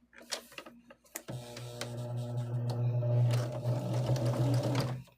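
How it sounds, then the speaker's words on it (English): Sewing machine stitching quilt pieces with a 1/4 inch seam, a steady close-up motor whir running continuously after a few brief handling clicks. "And then I'm going to take it to my machine and stitch a 1/4 inch."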